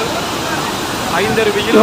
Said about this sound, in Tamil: குற்றாலத்தில் எல்லா அருவிலையும் வெள்ளப்பெருக்கு